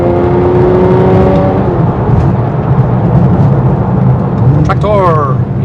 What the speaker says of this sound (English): I don't think there's any sound quite like the GTR